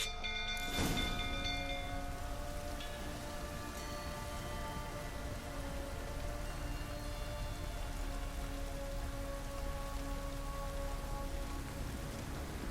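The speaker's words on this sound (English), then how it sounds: "Looks like rain." Steady rain patters on a surface throughout in The Witcher 3: Wild Hunt, a soft even hiss with a brief sharper knock near the start.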